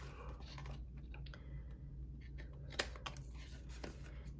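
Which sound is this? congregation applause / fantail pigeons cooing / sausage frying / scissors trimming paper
scissors trimming paper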